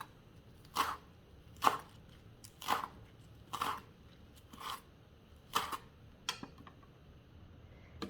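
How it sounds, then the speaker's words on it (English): A knife slicing ten basil leaves into thin strips on a cutting board for Italian bruschetta: seven crisp, evenly spaced chops, each a sharp crunchy tap against the board, close and clear with quiet pauses between them. "Right here I have 10 basil leaves. Now I'm going to chop these up real thin slices."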